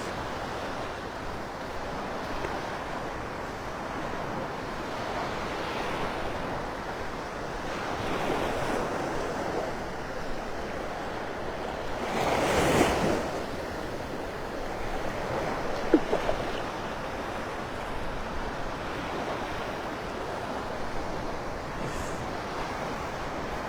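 Steady surf washing onto the sand at Delnor-Wiggins beach in North Naples on an evening sunset walk, a continuous rolling wash with wind buffeting the microphone and a louder gust or breaking wave midway.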